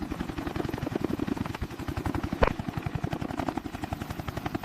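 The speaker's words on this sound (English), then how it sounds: "Power check complete, beginning vertical takeoff." A CH-53K King Stallion heavy helicopter beginning a vertical takeoff gives a loud, close, continuous rhythmic thumping of rotor blades, with one brief sharp click midway.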